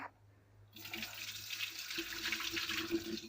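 Tap water runs steadily while homemade butter is washed clean of its milky residue, a continuous close splashing rush that starts abruptly after a short quiet moment and carries on unbroken.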